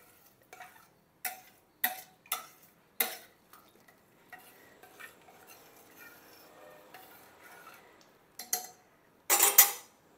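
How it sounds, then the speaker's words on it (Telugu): Kichidi stirred in a cooking pot: a series of sharp scraping and clanking strokes of a spoon against the metal, in bursts with quieter stretches of soft shuffling between them, close and fairly loud, no talk. "వేసేసి బాగా కలయి తిప్పి"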